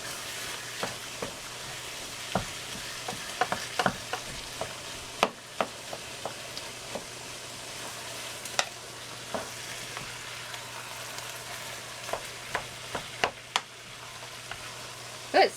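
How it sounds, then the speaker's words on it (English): Hamburger meat frying in a pan, giving a steady close sizzle broken by scattered crackles and pops, with no voices over it. "Just the hamburger cooking."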